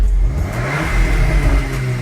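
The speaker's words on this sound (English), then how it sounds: "You can hear the car go fucking loud, bro." A 700bhp Audi RS4 with a Milltek exhaust revving hard up close, a loud, deep engine roar that swells and holds with a throaty exhaust note, heard alone.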